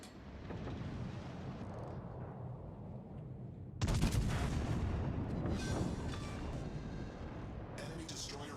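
Heavy naval guns fire AP shells in a warship video game, a sustained rumbling barrage with a loud fresh salvo midway and continuous booming beneath talk.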